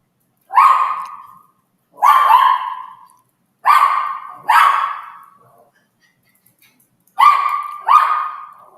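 A dog indoors barks in short sharp bursts, six loud close barks in irregular pairs and singles separated by silent gaps, with no other sounds.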